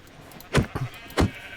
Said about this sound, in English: Come here, little sheepies.